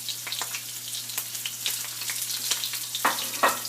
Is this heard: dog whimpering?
no